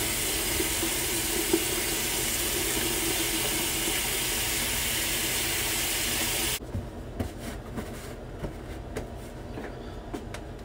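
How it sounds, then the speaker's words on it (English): Running water pours steadily as a continuous hiss from a home shower for about six seconds, then cuts off, leaving quieter drips and faint clatter. "then I'm going to take a shower"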